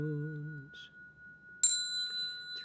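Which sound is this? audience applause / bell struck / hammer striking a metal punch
bell struck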